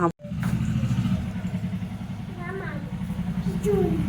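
A motorbike engine rumbles steadily close by as it arrives, a continuous low throb lasting throughout, with people talking over it.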